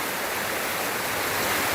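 A river in a forest reserve flows steadily, giving a loud, continuous broadband rush of water with no pauses and no voices.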